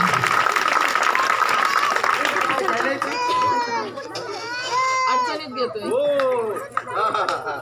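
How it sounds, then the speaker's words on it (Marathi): A crowd at a school gathering claps loudly to welcome the headmaster, a dense burst of applause that thins out as children's high voices and a crying child rise over it. "आपण एकदा जोरदार त्यांचं टाळ्या वाजवून स्वागत करूया."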